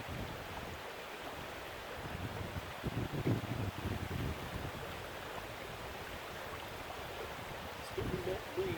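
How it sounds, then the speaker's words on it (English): A breeze blows outdoors while fishing, a steady broad rush of wind buffeting the microphone with faint low gusts and a few quiet bumps, continuous across the whole stretch. "It's getting a bit breezy."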